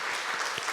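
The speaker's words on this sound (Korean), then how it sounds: "우리 위에서 수고하시는 분들 위해서 박수 한번 했으면 좋겠습니다" A church congregation claps together during a Sunday service, a dense, fairly faint wash of many hands in a brief burst.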